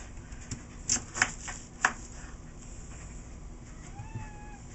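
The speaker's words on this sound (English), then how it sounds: "And that's my cat, Brat." A cat meows faintly in the background, a short drawn-out call near the end, after a few sharp knocks and clicks.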